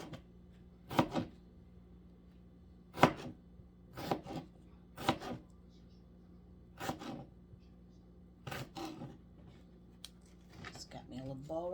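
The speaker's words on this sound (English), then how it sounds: "So I'm gonna take each one of these pieces and cut it" A knife slicing vegetable pieces thin on a cutting board, several separate short crisp cuts spaced a second or two apart, close and fairly quiet.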